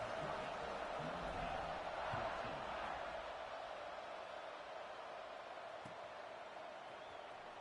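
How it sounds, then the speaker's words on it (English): Broad crowd buzz at a football stadium during a game, with the kickoff coming after a score, a steady wash of distant voices that eases slightly over time, with no clear talk on top. "this crowd is buzzing after that last score"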